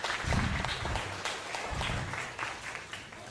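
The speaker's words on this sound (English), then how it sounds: "let's just give her a round of applause" An audience applauds a dancer at a Bharatanatyam arangetram, a fairly faint, steady patter of many hands clapping throughout.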